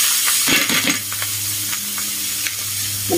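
Baby clams are stirred into a hot pan with garlic, lemongrass and chili, giving a loud steady sizzle with scraping stir strokes and clinking shells, close up and without talk.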